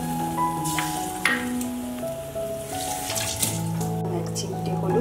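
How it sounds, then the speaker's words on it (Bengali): Water runs into a cooking pot while tangy tamarind dal bora curry is made, a steady pouring wash heard under soft background music. "একটু বেশি করে জল দিতে হবে"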